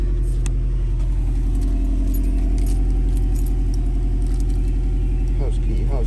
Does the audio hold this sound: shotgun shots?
no